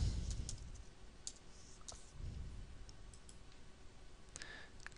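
A few faint, light clicks from a computer mouse during a login, scattered and close against a quiet room hiss.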